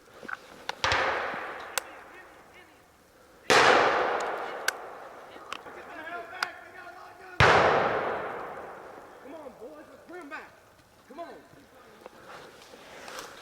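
Three sharp, loud gunshot-like reports ring out at a WWII reenactment battle, each with a long echoing decay, while scattered smaller pops and faint voices fill the gaps between them.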